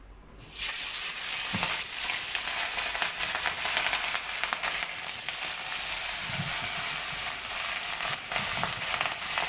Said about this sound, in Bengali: তেলটা গরম করে নিলাম। এক এক করে মাছগুলো ভেজে নিলাম।